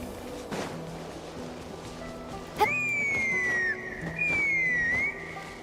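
Loud whistle sounding from a bridge in a video game: two long, sliding whistle blasts, each dipping slightly in pitch, cut in sharply over a quiet ambient background after a brief click.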